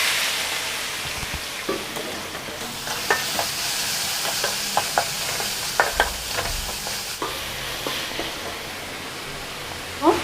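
Finely chopped onions fry in hot oil with cumin for an egg curry, giving a steady, close sizzle broken by sharp clicks of a spoon stirring against the pan.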